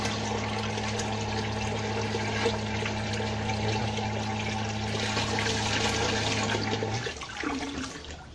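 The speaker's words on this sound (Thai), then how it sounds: "จะเห็นว่าน้ำออกมาเต็มท่อนะครับ" Water gushing from a pipe fed by a solar-powered pump set, a strong steady rushing flow over a low mechanical hum that cuts out near the end while the splashing continues.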